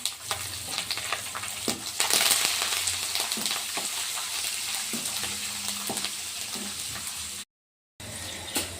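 Green chillies and chana dal sizzle steadily in hot oil in a pan, a loud, continuous frying crackle with occasional stirring clinks and a brief dropout near the end.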